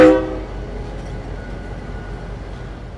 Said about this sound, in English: our train arrived right on time